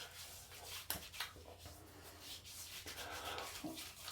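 Hands rub a mango honey shave product together and work it in, producing a soft, continuous close-up friction and slick rubbing sound at low volume.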